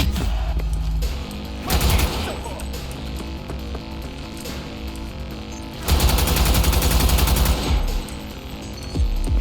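Automatic gunfire in the video game Cyberpunk 2077 rattles out in two loud sustained bursts over a constant game soundscape, with a quieter stretch of rumbling ambience between them.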